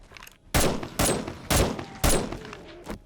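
An M60 machine gun in the game 7 Days to Die fires four loud, evenly spaced booming shots about half a second apart, then a softer fifth shot, each with a short ringing tail.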